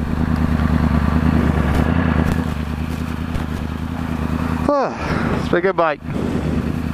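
A Yamaha R1 crossplane motorcycle idles with a loud, steady engine drone, then two sharp revs climb quickly in pitch and drop away, close by, while someone speaks briefly.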